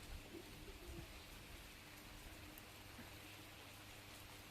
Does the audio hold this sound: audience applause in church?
no